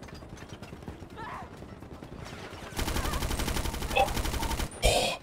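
Automatic gunfire in GTA 5 roleplay, a sustained rattling burst in the second half followed by a sharp louder volley, fairly close, after a quieter stretch of background noise.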